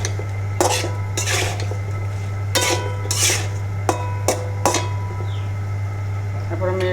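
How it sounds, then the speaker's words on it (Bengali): A metal spoon scrapes and clanks against a pan while eggplant and potato are stirred with spices, giving irregular sharp knocks over a steady low hum, close and fairly loud. "এখন এই যে বেগুন আর আলু ভালো করে কষিয়ে নিব।"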